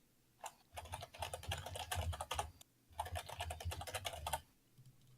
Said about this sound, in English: Furious sounds of typing.